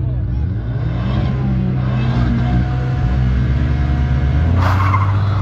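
Rally cars launching side by side at the start of an asphalt drag race, loud engine roar and tire squeal that rises sharply near the end, with a commentator talking over it.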